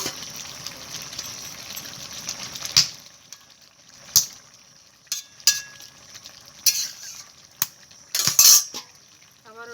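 Rohu fish goes into a pan of eggplant curry, sizzling and frying close up, with sharp spoon and pan clinks and scraping strokes over steady hiss.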